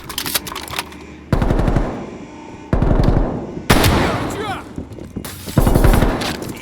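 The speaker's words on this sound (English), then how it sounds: "Lay down suppressing fire!" Bursts of heavy automatic suppressing gunfire in Call of Duty: Black Ops Cold War, loud rattling volleys separated by short gaps, with shouted voices in between.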